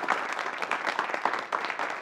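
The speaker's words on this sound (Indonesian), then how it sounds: "Setelah melihat dan mendengarkan tepuk tangannya, kiranya para hadirin tidak ada yang tidak setuju." An assembled audience at a gathering in Indonesia applauds, a dense, steady wash of clapping from many hands heard fairly close and without pause.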